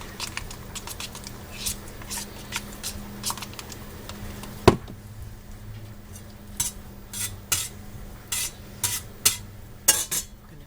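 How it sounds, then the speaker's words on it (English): Sour cream is stirred briskly in a bowl to loosen it, giving a run of close, sharp utensil clicks and scrapes in an uneven rhythm with one louder knock. "stirring it up really good to loosen it up"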